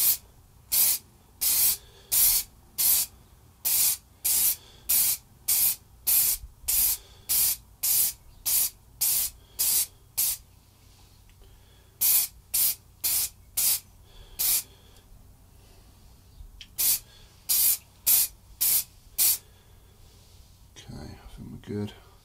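Repeated short bursts of aerosol clear lacquer sprayed as a final coat on a guitar headstock, hissing in a steady rhythm of quick blasts with brief pauses, close by; a few gaps break the sequence.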